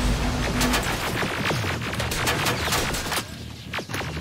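Gunfire in the video game Terminator: Resistance, a loud rapid fusillade of many overlapping shots and bursts, dense for most of the clip before thinning near the end.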